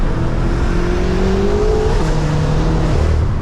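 A stage 2, 700 hp BMW M5 revs hard through gear shifts on a track, its engine note climbing then dropping at each change, loud and close inside the cabin.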